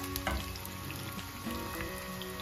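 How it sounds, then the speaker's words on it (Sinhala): Onions dropped into heated oil in a pan for a chicken curry, crackling and sizzling steadily at close range with small popping spits, no voices. "තෙල් ටික රත් වෙනකොට ලුණු ටික ඔක්කොම ඒකට දාග භාජනයට දා ගන්නවා"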